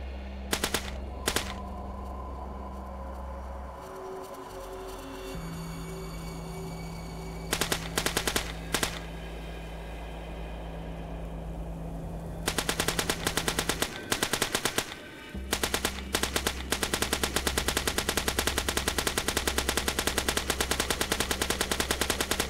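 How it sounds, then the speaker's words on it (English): Rapid automatic weapon fire from a Lastworld pre-alpha video game, shooting test particles at a ramp contraption: long, loud bursts of machine-gun-like shots broken by gaps with droning tones, close and continuous without speech. "If I shoot the particles at this little contraption I made, you can see how the particles flow down the ramp and onto the ball."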